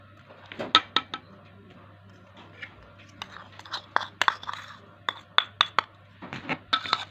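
A spoon clinks and scrapes against a bowl while dahi baray ingredients with tomato, red chili and salt are mixed, making irregular sharp taps and wet squelching up close over a low steady hum.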